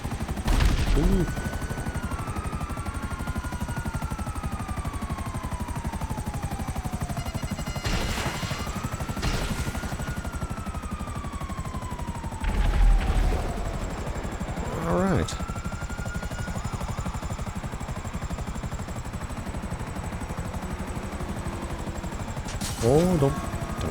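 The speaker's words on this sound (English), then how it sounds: "Oh, don't wreck the helicopter." A helicopter in the video game GTA Online drones steadily at mid-distance throughout, with a few sharp gunfire-like bursts and descending whistling tones cutting in now and then.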